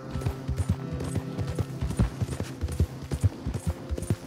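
Steady clip-clopping of horse hooves in a quick, regular rhythm in Red Dead Redemption 2, close and fairly loud, with a faint musical background.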